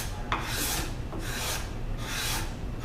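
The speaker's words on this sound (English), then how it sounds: "I want to take a few passes of this with the scraper" A sharp hand scraper with an aggressive burr is drawn across a wooden cutting board in three or four rhythmic rasping passes, close and fairly loud, with no talking.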